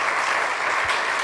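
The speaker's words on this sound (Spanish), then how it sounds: "te despedimos con este gran aplauso" Audience applause at a conference talk, a dense steady wash of many hands clapping close and loud throughout, with no talk over it.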